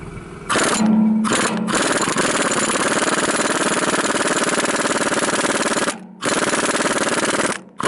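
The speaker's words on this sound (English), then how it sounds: "He's finna throw this impact on it right here to break that thing loose." Loud, rapid hammering rattle of an impact wrench breaking a tractor crank part loose, running in long bursts with brief pauses between, close and harsh.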